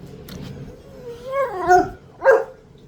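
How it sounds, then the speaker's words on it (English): A puppy wanting attention gives a whiny, rising bark followed by a second sharp yelp, close and fairly loud, after a short stretch of quieter whimpering. "oh, it's my puppy. He wants a little attention."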